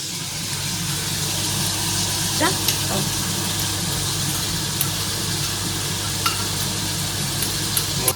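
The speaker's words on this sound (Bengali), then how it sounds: "এবার ভালো মতো মোটামুটি 5 মিনিট ভেজে নেবো মাংসটা" Chicken frying in a pan with tomato and spices gives a dense, steady sizzle throughout, with a few faint scrapes and clinks of stirring.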